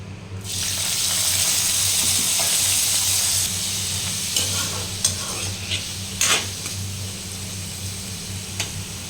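Loud, continuous sizzle of vegetables frying in hot oil in a wok, starting abruptly, with occasional scraping stirs and small pops as it settles; no talking.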